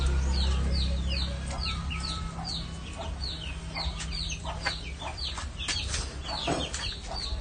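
Chickens cluck repeatedly in a farmyard, several short calls close by and overlapping in an irregular rhythm over a steady low background hum.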